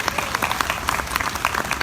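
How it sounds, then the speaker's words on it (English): Fair queen contestants at the 2016 Rice County Fair coronation draw a short burst of crowd applause, with distinct individual claps in a brisk, uneven patter. "How about a round of applause for these ladies"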